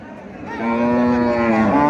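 A very large cow at Charmonai cattle market gives one loud, close, drawn-out moo that swells and holds to the end.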